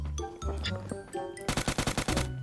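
An M16 rifle fires in the mobile game PUBG Mobile, a rapid burst of about eight sharp shots in quick succession near the end, preceded by other game sounds and soft tones.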